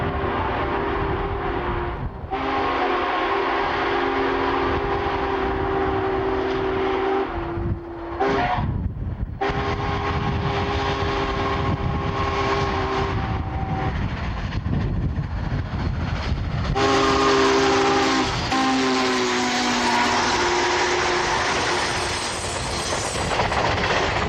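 Union Pacific 844 steam locomotive pulls a heritage excursion train with E units through western Missouri: a continuous loud rumble and rail clatter, with sustained horn blasts sounding over it at intervals.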